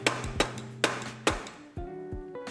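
Sharp metallic strikes hammer a flathead screwdriver into the stem opening of an Apollo Phantom 2.0 electric scooter during front fork replacement, about six loud, close blows at an uneven pace, each leaving a short ringing tone.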